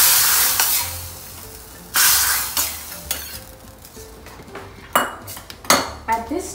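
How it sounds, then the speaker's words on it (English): Kashmiri chili powder tadka for Sindhi kadhi, stirred in a small pan with the flame off, then poured into the curry, with repeated loud metal clanks of spoon and pan over a soft background sizzle, no talking. "we'll add the Kashmiri chili powder, give it a stir and add it in the curry"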